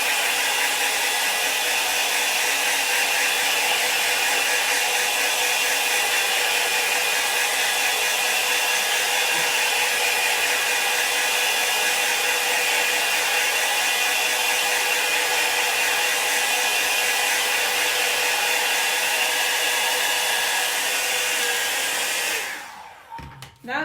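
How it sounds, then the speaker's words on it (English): A hair dryer runs continuously at close range, drying chalk paste on a DIY home decor piece, a loud steady whooshing hum that holds for over twenty seconds before cutting off abruptly at the end. "I'm gonna blow dry it, which take about 30 seconds"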